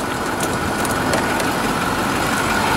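A MaxxForce 7 diesel engine in a 2013 Starcraft XL 32-passenger bus idles under the hood, giving a steady, continuous rumble with a constant mechanical hum at close range and no voices.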